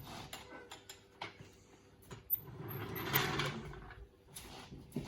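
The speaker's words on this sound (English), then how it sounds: "And a ratchet, it's all you need." A hand ratchet on a 3/4 inch fitting cranks down the suspension of a Dodge Dart, giving quick clicking turns and mechanical creaks near and fairly quiet, with no talk.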